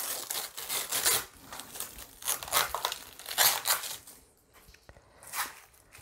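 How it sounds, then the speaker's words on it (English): Plastic protective strips peeled and crinkled off a Sapphire Pulse AMD Radeon RX 6800 graphics card, a run of close crackling, tearing rustles in bursts with short pauses. "Got quite a bit of the old plastic strips and stuff around it to strip off."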